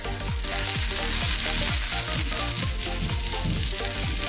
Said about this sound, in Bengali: প্রায় মিনিট দিয়ে সময় নিয়ে গ্যাসের ফ্লেম হাই রেখে রান্না করব